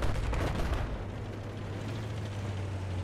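Tank cannon and gunfire in a video game, heard as dense, rumbling low booms and a continuous low hum with no speech over it.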